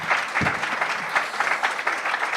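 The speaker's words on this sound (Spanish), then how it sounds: "Un aplauso para Jeremy" Dense applause from a lecture audience, steady clapping throughout with a few louder bursts, fairly close.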